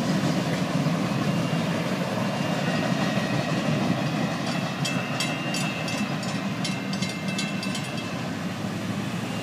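A Florida East Coast Railway freight train rolls past County Road 512 West on the main line, a loud, steady rumble of railcars close by with rhythmic clickety-clack and metallic squeals near the end.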